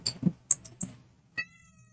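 A house cat meows indoors in short, fairly faint calls, mixed with light tapping and scratching noises near a broken bed frame.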